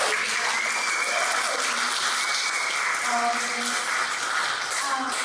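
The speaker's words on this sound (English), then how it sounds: "Can we have a round of applause?" A roomful of people gives a steady round of applause before a screening at an arts event, continuous clapping with faint voices and tones threaded underneath.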